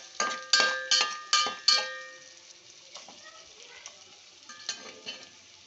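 Onions and green chillies frying in oil, a spoon scraping the pan in four quick rhythmic strokes, then softer sizzling with a few scattered clinks, close and alone.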